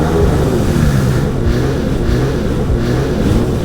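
A Sea-Doo Spark XP jet ski engine revs loud and close, with a steady dense roar that swells slightly in repeated surges over a few seconds.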